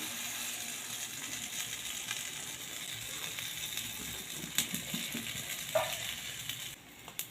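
Semolina batter for bun idli sizzles and fries in hot oil in a pan, a steady crackling hiss running throughout with a few sharper pops near the end.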